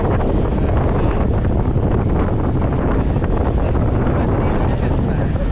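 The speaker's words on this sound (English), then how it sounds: "Ah, it's a bit windy, isn't it?" Strong wind buffeting the microphone on the coast of Ibiza, a loud continuous roar with gusty rumble the whole time.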